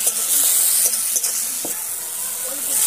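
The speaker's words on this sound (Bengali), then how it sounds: "দেখুন আমার মশলাটা ভাজা ভাজা হয়ে গেছে।" Spice paste sizzling and frying in a pan, a continuous bright hiss with a few soft stirring clicks, steady throughout.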